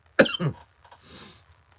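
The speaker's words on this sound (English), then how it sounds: "I'm feeling iffy this morning with the coughing and the sniffles" A sharp double cough close by, followed by a softer breathy exhale, no talking.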